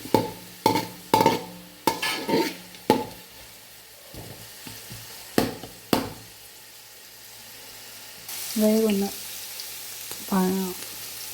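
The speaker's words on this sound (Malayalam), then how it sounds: "കരിയാതെ ഒന്ന് ഇളക്കി കൊടുക്കുക" A spatula clacks and scrapes against a thin pan in uneven bursts over a soft sizzle while chicken stew ingredients fry, with a brief voice near the end.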